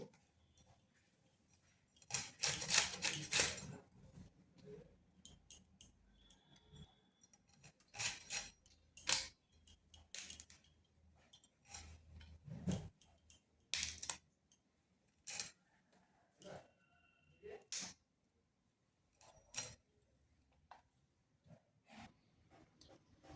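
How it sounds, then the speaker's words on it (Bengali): A whole cauliflower being cut into florets for a vegetarian dish: sparse, crisp snips and clicks come in irregular bursts, with quiet gaps between them. "এরপর ফুলকপিটা কেটে নিচ্ছে"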